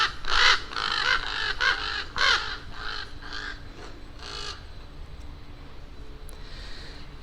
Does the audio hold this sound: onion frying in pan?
no